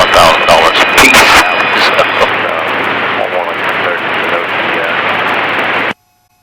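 A helicopter's engine and rotor drone steadily through a Sedona sightseeing tour, loud and constant from inside the cabin, with a voice talking over it before the sound cuts off abruptly.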